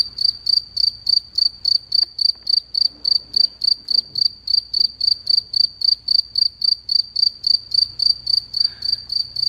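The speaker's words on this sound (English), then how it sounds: "There's a lot of crickets in Nevada." A cricket chirping at night in Nevada, close and loud, lodged in a C5 Corvette's cowl; even rapid pulsed trills repeat about twice a second throughout, with faint scattered shop noises underneath.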